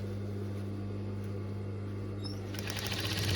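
A sewing machine sews a fabric scrunchie while the fabric is pulled through, a steady close motor hum with faint rhythmic stitching that grows slightly louder near the end.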